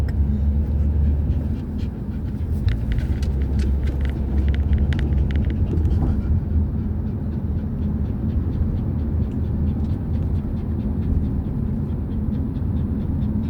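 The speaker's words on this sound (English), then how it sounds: "You're panting so hard." Rapid rhythmic dog panting close by, over a low rumbling motor-vehicle hum that continues the whole time.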